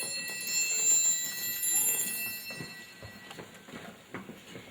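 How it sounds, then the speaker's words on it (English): A metal triangle struck with a beater at a children's percussion concert rings out in a long, shimmering high tone that slowly fades, with faint room noise and soft voices beneath. "we can also make even longer sounds with a triangle by doing this"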